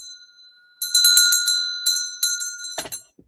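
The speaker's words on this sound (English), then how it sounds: "I'll ring the bell to signify the end of class." A hand bell rung to close a children's sewing class, several bright metallic rings in quick succession, loud and close, ending with a clunk as it is set down.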